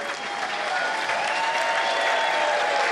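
A large crowd applauds at the 2023 UK Championship snooker final, a dense, sustained wash of clapping that stays loud and steady throughout.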